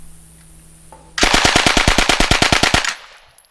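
A Sten submachine gun fires one loud, close burst of about fifteen rapid, evenly spaced shots lasting under two seconds, with quiet before and after.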